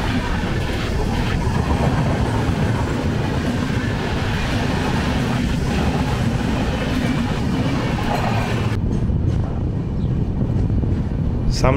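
A Kamrup Express passenger train runs on the rails with a loud continuous rumble and rhythmic wheel clatter, heard from inside a carriage throughout.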